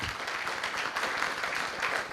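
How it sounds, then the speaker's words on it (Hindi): A crowd at a college induction session applauds for the parents, a dense, steady burst of clapping that carries on throughout, loud and close. "एक बार इन बच्चियों के पेरेंट्स के लिए जोरदार ताली बजाओ"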